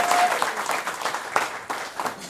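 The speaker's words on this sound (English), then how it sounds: "Round of applause for David," Applause from a small audience at a tribute event, steady mid-distance clapping that carries through the full stretch with uneven swells.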